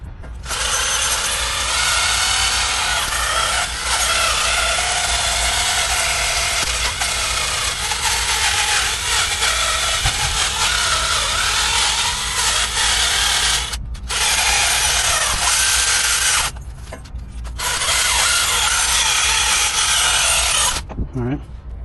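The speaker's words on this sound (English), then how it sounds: "So I like to hit all this with a wire wheel." A wire wheel on a power tool scrubs the hub assembly and ABS sensor area of a 2013-2018 Ram truck, a loud continuous grinding whir with two short pauses near the end.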